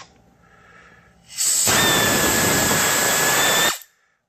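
A power tool whirs for about two seconds while removing a chain guard bolt on a 2007 Honda CRF80, a loud close high-pitched buzz that starts and stops abruptly.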